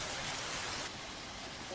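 Heavy rain pours down in an animated cartoon, a dense, even hiss of falling water that stays continuous and fairly quiet throughout, dipping slightly in level partway through, with no voices.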